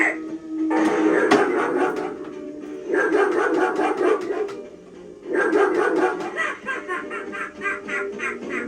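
A life-size Tekky Balloon Dog Clown animatronic Halloween prop from Lowe's Haunted Living 2025 lets out a run of harsh, yappy barks and snarls like an evil little attack dog, in three loud bursts close by with brief pauses between.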